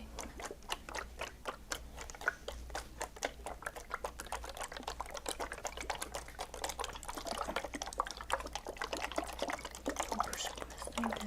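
Massage oil is worked over skin in a steady run of soft, wet slicks and ticks, close and quiet, with a low hum underneath and no voices.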